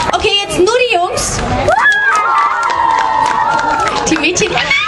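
A crowd of boys in a children's concert audience cheers and claps together, a loud, sustained roar of high-pitched shouts and whoops over steady clapping that fills the whole stretch without a break.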